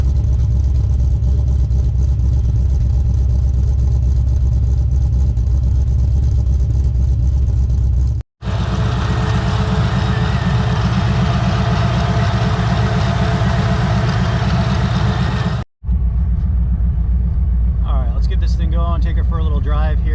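A G-body car with a supercharged 408ci LS swap under a Magnuson 2650 blower runs close by with a loud, deep, rumbling idle, the sound cutting out twice and ending in a quieter stretch.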